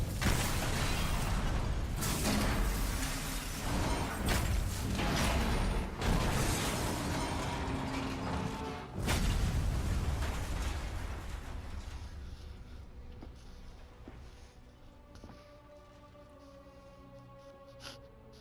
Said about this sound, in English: And explosion.